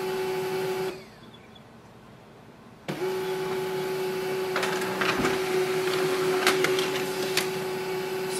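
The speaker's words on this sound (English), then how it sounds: "So this means the printer is working." An HP LaserJet M236sdw laser printer whirs and hums steadily with mechanical clicks and rattles, pausing briefly before resuming a continuous feeding and printing drone as it prints a test page, close by.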